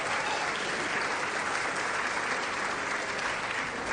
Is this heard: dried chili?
no